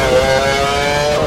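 Race car engine in the F1 2012 video game, set at the Australia circuit, holding a loud steady high drone while the car runs into the gravel, constant and close with no voices over it.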